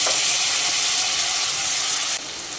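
Spice paste tipped into potatoes frying in a pan gives a steady, loud hiss and sizzle that holds throughout, dropping slightly in level near the end.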